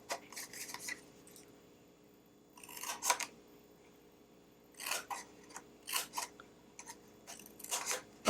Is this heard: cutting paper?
yes